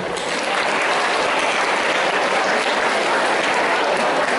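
Dense, loud audience applause fills a Hindi Divas school celebration after a correct quiz answer, sustained clapping from many people with no break.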